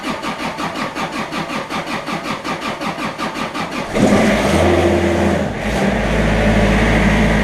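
A Ransomes lawnmower engine with a glow plug fault is cranked by a starter in a rapid, rhythmic chug for about four seconds, then catches and settles into a loud, steady running roar close by.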